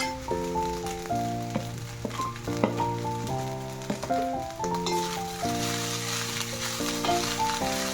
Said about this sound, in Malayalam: ഈ നിലക്കടല ഇട്ട് കൊടുക്കാം.